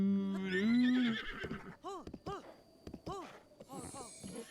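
A horse in Zelda: Breath of the Wild lets out a loud, wavering whinny, followed by a series of short snorting and neighing bursts alongside game sounds.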